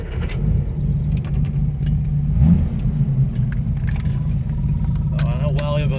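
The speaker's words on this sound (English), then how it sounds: "you'll be able to hear the sound of the exhaust" A car's exhaust rumbles low and steady from inside the moving vehicle, with a brief surge in the middle, light rattles, and faint voices in the background.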